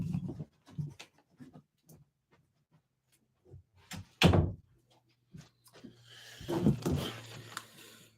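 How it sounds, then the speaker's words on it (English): A door is pushed shut in a house, a single solid thunk near the middle following a few soft handling knocks and footsteps, then a low hum and some rustling. "let me just close the door here."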